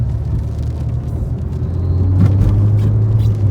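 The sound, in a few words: Renault Mégane 2 RS engine accelerating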